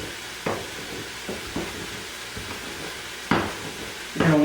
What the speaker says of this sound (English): I cut the skin off the sausage and put that in over there, and I've got it frying